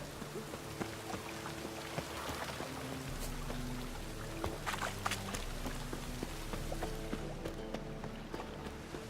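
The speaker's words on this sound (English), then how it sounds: "It's raining buckets." Steady rain falls in The Witcher's city of Novigrad, a constant hiss and patter over low ambient game tones, with no one talking.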